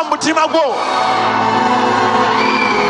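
A church revival congregation screams on command, a few shouted voices leading into a massive, sustained wall of crowd screaming that stays loud and steady throughout.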